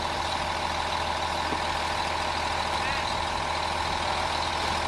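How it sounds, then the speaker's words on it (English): A truck engine runs steadily on a busy construction site where a concrete pumping truck is working, a constant droning rumble with faint site clatter in the background. "We also have a concrete pumping truck on site."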